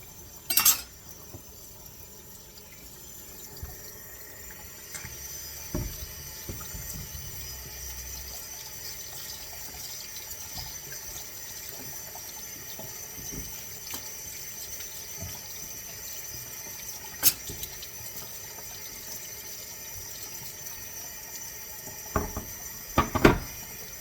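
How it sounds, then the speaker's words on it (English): A cutting board being washed under a kitchen tap: a continuous low hiss of running water with occasional clinks and knocks of the board against the sink, with a few sharper taps near the start and end. "I'm going to wash this board off"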